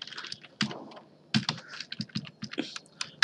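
Close, busy typing of code on a computer keyboard, rapid irregular bursts of crisp key clicks with short pauses between runs, loud and dry with no voices.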